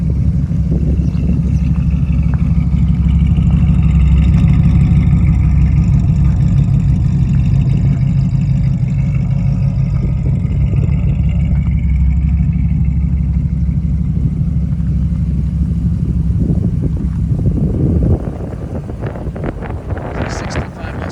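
A rotisserie-restored 1965 Ford Mustang fastback with a 289 V8, automatic transmission and air conditioning drives along with a steady low engine drone and wind rush, loud and continuous before easing off near the end.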